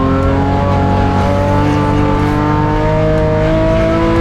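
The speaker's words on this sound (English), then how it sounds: "Reesa in the Pepper Shield BMW. Here he comes." A Pepper Shield BMW race car drives past on the circuit at close range with a loud, sustained engine roar that holds steadily over a few seconds.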